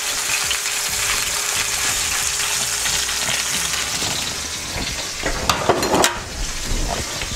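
Beef sears in a pan for braised beef with red beans, giving a steady close sizzle, with a burst of louder crackling and spatter near the end and no talk.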